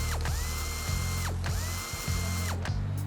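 A powered ratchet tool whirs in repeated bursts while unscrewing the battery tray bolts on a 2019-or-later Hyundai Veloster N, each burst a rising mechanical whine that holds steady, then drops off, close and loud.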